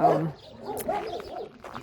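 Dogs at Vafa, an animal shelter in Iran, giving a few short barks and whining yelps at a moderate distance. A voice briefly overlaps at the start.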